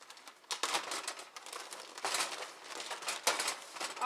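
Reusable two-gallon plastic bag being handled in a kitchen, a series of soft, close crinkling and rustling bursts in irregular rhythm, fairly quiet and with no talking.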